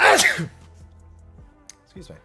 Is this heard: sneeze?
yes